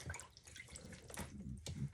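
A wig is pushed down into a bucket of cold water, giving close, irregular dripping and sloshing splashes that continue steadily for about two seconds.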